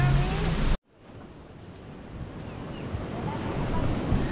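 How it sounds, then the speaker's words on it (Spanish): A steady, roaring rush of water from a river swollen by Hurricane Lidia in Jalisco fills the scene after a brief cut, broad and continuous, churning close by, with wind buffeting the microphone. "escucha cómo zumba, cómo ruge, cómo gruñe este río"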